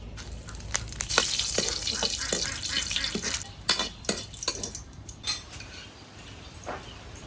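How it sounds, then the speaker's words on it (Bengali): Cumin, dried chili and bay leaf crackle in hot oil in a wok, a moderate close sizzle punctuated by irregular sharp pops and spatula scrapes against the pan. "ফোড়নে দিয়ে দেবো জিরা, শুকনো মরিচ আর তেজপাতা।"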